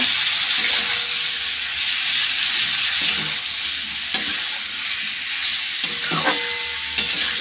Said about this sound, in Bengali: দিয়ে এখন একটু ভালো করে কষিয়ে নেব।